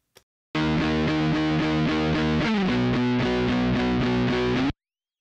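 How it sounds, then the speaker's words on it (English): Electric guitar run through a Sansamp amp-modeling plugin on its Fat Lead distortion preset, a loud, saturated chordal riff that shifts pitch midway and sustains steadily for about four seconds before cutting off, with no talk. "Now I'll choose a preset from the preset list, like Fat Lead. And you can hear the difference right away."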